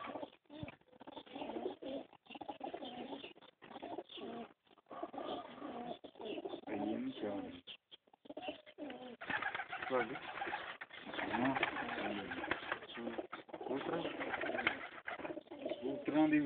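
Pigeons coo in soft, repeated rolling calls that continue throughout, fairly close, mixed with people talking nearby and some background noise.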